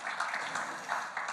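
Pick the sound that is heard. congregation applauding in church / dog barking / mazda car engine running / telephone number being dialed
congregation applauding in church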